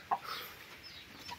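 A hen settled in a nest with chicks gives a brief soft cluck, faint and close, followed by quiet low murmurs in a calm henhouse.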